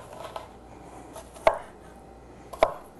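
A kitchen knife chops onion on a cutting board, a few sharp, close knocks spaced about a second apart, alone with no speech.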